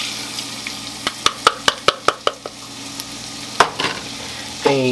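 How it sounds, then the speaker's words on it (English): Celery and onion dropped into melted butter for a turkey pot pie filling, with a quick run of sharp spoon clicks against the pan over a steady low sizzle, then a louder hiss as more goes in. "our butter is melted down, so to that we're going to add half a cup of celery, half a cup of onion"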